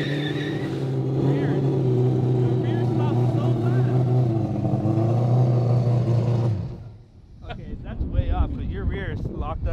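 An AWD four-rotor Mazda RX-7 running with hacked Corvette wheel hubs roars loud and steady, then brakes hard and cuts off abruptly as the tires lock up, with voices talking afterward.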